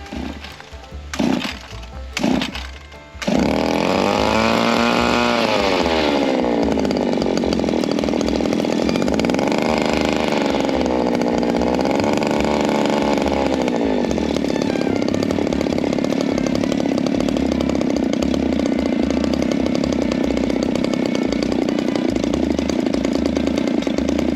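A gas-powered SAJE Christmas tree shearing tool gives a few short pull-start bursts, then its engine catches, revs up and down, and settles into a loud, steady high-pitched drone up close.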